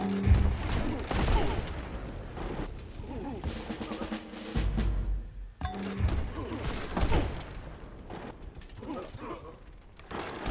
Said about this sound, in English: we're going to probably spend a little bit of time bombarding here